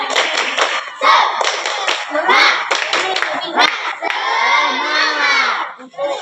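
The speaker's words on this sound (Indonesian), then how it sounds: "tepuk semangat." A classroom of fourth and fifth graders performs a group cheer clap, crisp rhythmic bursts of many hands in close, loud succession, ending in a long chorus of children's shouting voices.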